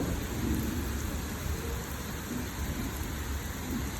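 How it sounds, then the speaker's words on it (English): Rain pours steadily during a severe thunderstorm while thunder rumbles continuously underneath, a dense unbroken wash of storm noise with no voices. "It's constant thunder right here."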